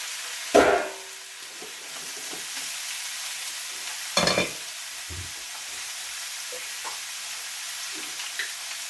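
Summer squash hitting hot olive oil in a small saucepan, with two loud sizzling bursts as pieces drop in, then a steady low frying crackle with occasional stirring clinks.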